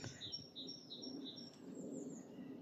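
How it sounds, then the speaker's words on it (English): A big flock of long-tailed tits in an oak tree gives faint, high, repeated chirping calls in a quiet woodland setting. "Quite a big flock of long-tailed tits up in this oak tree."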